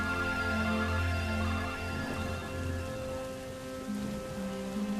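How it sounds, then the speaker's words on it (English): Heavy corrosive rain pours steadily in the LEGO Star Wars: The Force Awakens video game, a dense hiss layered with low tonal game music throughout. "You cannot go out in that rain."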